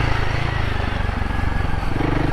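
A Royal Enfield Himalayan 450 motorcycle ridden off-road, its single-cylinder engine running loud and close with a steady throbbing pulse that shifts pitch slightly near the end.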